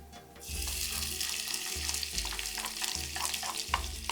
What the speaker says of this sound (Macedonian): Сега ќе го ставиме кромидот да се прши.